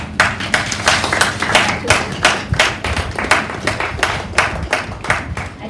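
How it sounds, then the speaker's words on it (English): A modest crowd at a Handloom Day celebration conference claps steadily, with distinct individual claps standing out, close and fairly loud, for nearly six seconds. "I think we could clap a little louder for her."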